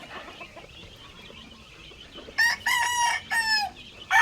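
Gamefowl roosters crow in a pen, several loud, close cock-a-doodle-doo calls in quick succession over a low background hum.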